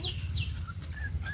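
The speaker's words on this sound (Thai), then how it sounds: "โอ้เป็ดไก่แล้วหลายแท้นี่" Chickens cluck close by in a farmyard, with soft, repeated low clucks and a few higher chirping calls scattered throughout.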